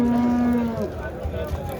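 A cow gives a single loud, close moo at a livestock market in Boysun, Surxondaryo, with the low call fading into crowd murmur and market noise.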